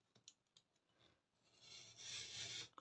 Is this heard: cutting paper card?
yes